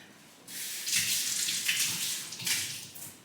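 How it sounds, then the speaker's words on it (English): Running tap water splashes over a cut vegetable as its seeds are rinsed out in a kitchen sink, a steady close hiss that swells and shifts in bursts as the vegetable is moved under the stream. "And then I rinse out the seeds."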